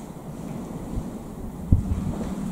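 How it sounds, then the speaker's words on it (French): Outdoors, low rumbling wind with small gusts buffets the microphone over a steady background hiss, and a brief dull thump stands out midway; there is no talking. "Bon, c'est vrai que des fois, il y a des petites rafales de vent."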